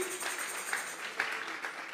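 Church congregation clapping together as an offering of applause to God, a steady, moderately loud patter of many hands with a few sharper claps standing out.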